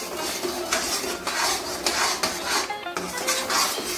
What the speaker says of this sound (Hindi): और अच्छे से इसे भून लेना है।